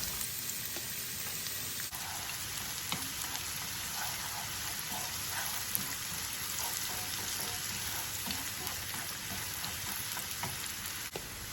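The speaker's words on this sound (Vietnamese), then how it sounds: "mình cho hành băm vào, mình phi trước" Steady crackling sizzle of minced onions frying in hot oil, continuous and close, with small pops scattered throughout and no talking.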